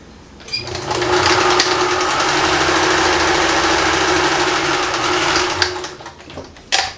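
A sewing machine runs a straight stitch through recycled denim jeans, a fast, even motor whir lasting several seconds, bracketed by short clicks before and after.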